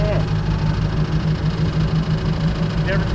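A 3.0 inline-four boat engine from a 1989 Raven idles steadily with a possible rod knock or piston slap, its low, continuous rumble carrying a faint repetitive tapping throughout, with voices in the background.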